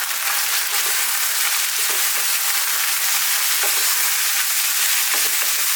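Potatoes and peas fry with turmeric and chili powder in a pan, giving a dense, constant sizzle. Occasional scraping stir strokes come through the sizzle, with no talking.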